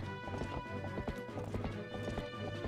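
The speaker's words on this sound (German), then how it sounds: "wenn der jemand auf dem Pferd eingaloppiert kommt" A horse gallops in The Legend of Zelda: Twilight Princess, its hooves pounding out a fast, steady clip-clop rhythm over layered game music and ambience, continuous and fairly full throughout.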